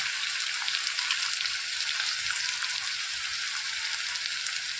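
Onion sizzling and frying steadily in a hot pan with half a teaspoon of turmeric being added, a continuous bright crackle heard up close with no talking.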